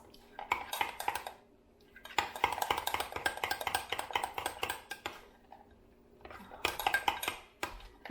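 Spoon scraping and clinking in a bowl while taco pasta salad is mixed with mayonnaise and mustard, heard as close, busy bursts of clattering stirring broken by short pauses.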